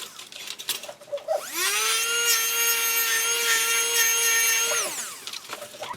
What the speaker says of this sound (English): First step is we're going to take our trim burr, and you're going to notice how quickly this burr goes to work.